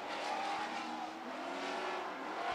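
Super stock race cars circle a short track during a heat race, engines roaring steadily and loudly throughout with a continuous layered drone of several cars at once, no talk over it.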